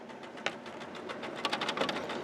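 An Epson WF-7610 inkjet printer running a copy job with a continuous mechanical whir, punctuated by short clicks and ratcheting bursts as the paper feeds through, close by and moderately quiet.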